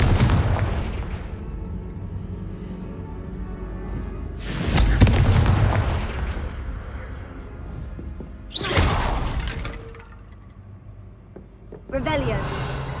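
Fiery Confringo spell blasts from the video game Hogwarts Legacy go off as three booming bursts with whooshing tails, spaced a few seconds apart. A voice speaks alongside them.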